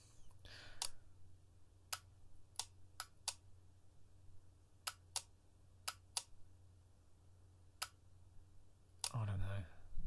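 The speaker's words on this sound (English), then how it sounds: "Do you like the clicking sounds?" Experimental gears give off sharp, isolated clicks spaced irregularly over a quiet steady hum, with a brief burst of other noise near the end.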